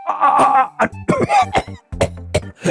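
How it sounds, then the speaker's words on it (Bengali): A king character in an animated Bengali comedy coughs loudly and close, a string of several harsh, uneven bursts with short gaps. "মহারাজ আপনার কাশি হয়েছে"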